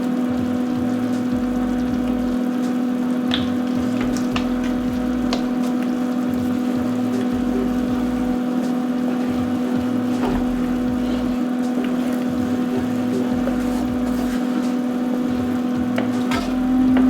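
Turkey meatballs frying in a pan with melted butter and browning sauce, a steady sizzle that runs without a break under a low constant hum, close and fairly loud.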